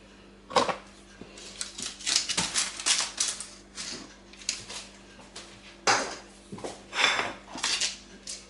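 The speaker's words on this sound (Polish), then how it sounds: "Wierzch oprószymy cukrem pudrem." Powdered sugar dusted over a baked plum and apple pie through a metal sieve, giving a string of sharp tapping and clinking bursts, some close together and some spaced out, fairly loud with no talking.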